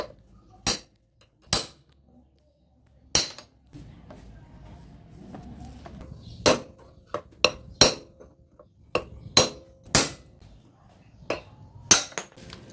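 Sharp metal hammer strikes on the steering head bearing of a Honda XRM125 fuel-injected motorcycle, about fifteen irregular close blows with pauses between, over a faint workshop hum and no speech.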